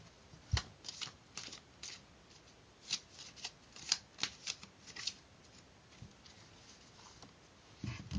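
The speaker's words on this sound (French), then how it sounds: "je vais commencer par lui demander de mélanger le paquet" A deck of playing cards is shuffled by a magic trick spectator, bursts of crisp riffling and flicking in quick irregular runs, close and fairly quiet with no talk.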